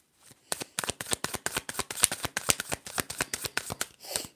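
A deck of tarot cards being shuffled up close, a run of about twenty crisp riffling flicks in quick regular rhythm, fairly quiet with no voices.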